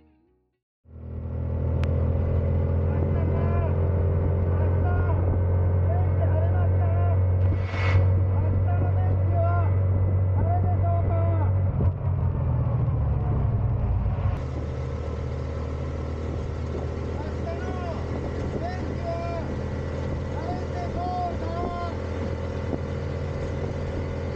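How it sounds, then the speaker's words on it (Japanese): A noisy APtrikes125 trike rumbles steadily at speed with a loud, low engine drone throughout, while a driver's shouting voice rises over it in the middle stretch before the roar settles into a slightly different steady tone. "実際の運転者が走行中に声を怒鳴るとこんな感じです"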